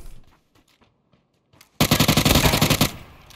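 Rapid automatic gunfire in PUBG erupts after a near-silent stretch: a loud, fast burst of shots lasting about a second before fading into a ringing tail, with faint sounds beforehand.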